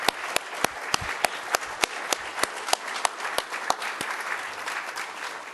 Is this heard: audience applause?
yes